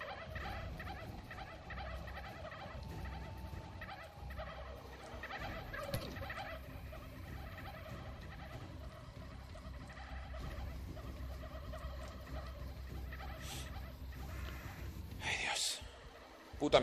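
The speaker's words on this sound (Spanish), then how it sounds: "están como putas cabras estos pavos" Turkeys from the video game How to Survive 2 gobble repeatedly in a chasing swarm, mixed with game noise, while someone talks over the action.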